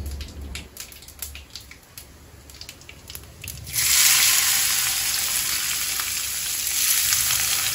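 A tempering spatters in hot oil before chopped onion is added, sparse crackling pops at first that burst into a loud, sustained sizzle about halfway through.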